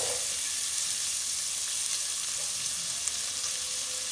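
Onions frying in butter with dry spices give a steady, close crackling sizzle that runs evenly from start to finish with no one talking, heard while making a creamy paneer masala.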